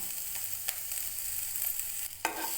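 Chillies, tomato and turmeric sizzle steadily in a pan as they are stirred, a close, continuous frying hiss with a couple of sharp scraping stirs, no talking.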